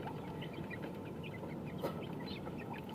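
Backyard chickens give soft, scattered clucks that sound fairly faint and near, over a low steady background hum, with one brief sharper noise partway through.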